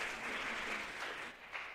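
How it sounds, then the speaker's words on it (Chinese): A church congregation claps together during a Sunday worship service, a steady spread of applause that holds evenly for a couple of seconds, then thins slightly near the end. "一起用拍手来感谢主"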